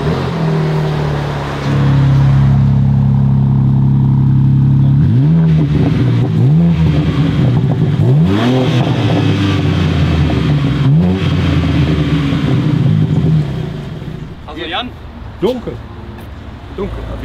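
Car engine fitted with a gasoline particulate filter, revving repeatedly in loud rising and falling sweeps through its exhaust, close by, with a steady idle between the revs and people talking faintly near the end.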